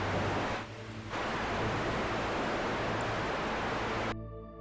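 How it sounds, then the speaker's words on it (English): Steady broadband hiss of static noise, like headphones failing underwater, loud and continuous, with a brief dip early on before cutting off abruptly near the end. "The sound of my voice may start to be overwhelmed by static."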